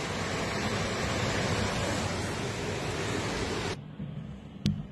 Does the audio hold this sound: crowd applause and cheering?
no